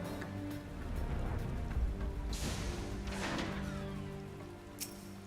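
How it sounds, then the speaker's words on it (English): Steady rain falling in the game Final Fantasy XIV, a continuous soft hiss of drops on surfaces with a low rumbling bed and occasional brighter splashes, no voices. "Wish it wouldn't be raining right now, though."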